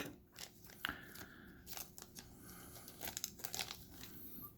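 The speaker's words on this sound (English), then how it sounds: "We'll pull out her little sword. Again, it's stuck to the blister with the sticky plastic." A clear plastic toy sword for a figure is pulled free of sticky plastic blister packaging, making faint close crinkling, snapping and peeling sounds in short bursts.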